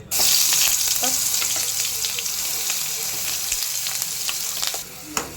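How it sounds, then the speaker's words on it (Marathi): Spice masala sizzles loudly in hot oil in a pan for sevbhaji, a dense and steady close-up hiss with faint stirring scrapes and a small knock at the end; no voices. "असा मसाला फ्राय करायचा लाल होता तेल सुटेपर्यंत परतायचं"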